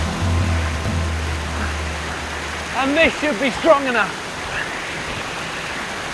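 Rushing white water of a small waterfall pours as a steady broadband roar, close and constant, with a low engine-like hum early on and someone speaking briefly over it midway.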